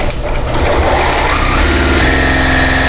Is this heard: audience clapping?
no